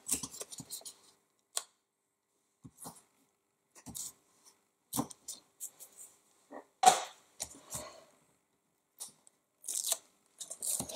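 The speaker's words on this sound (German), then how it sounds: "Ich nehme jetzt doppelseitiges Klebeband und mache einmal auf den fünften Streifen von jeder Seite einen Streifen Klebeband." Double-sided adhesive tape pulled off and pressed onto paper while making a pop-up card, heard as scattered short tearing and crackling bursts with quiet pauses between, close and alone.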